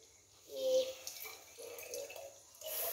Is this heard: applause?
no